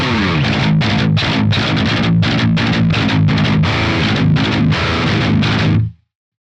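An electric guitar with a Corrigan HiFi XL pickup chugs a tight, high-gain metalcore djent riff, loud and rhythmic with sharp palm-muted stops, ending abruptly after about six seconds.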